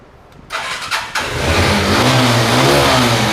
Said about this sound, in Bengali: রেঞ্জার যারা চালান শিখতে চান তাদের জন্য অবশ্য সিজেটের ইঞ্জিনটা খুবই ফ্রেশ খুবই কড়া সাউন্ড